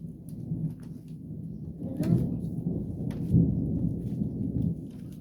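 Thunder rumbles through a moderate summer thunderstorm, with low rolling booms swelling and fading several times over steady rain, heard outdoors without talk.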